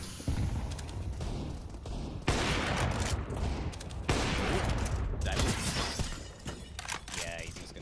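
Desert Eagle pistols firing in a Counter-Strike pro match, sharp loud shots and cracks in bursts through the round, under continuous caster commentary.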